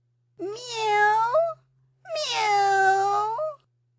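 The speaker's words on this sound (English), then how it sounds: "meow, interrupted Simpkin, and he scratched at the door" A cat gives two long, drawn-out meows in quick succession, close and clear, with a faint steady hum underneath and no talking.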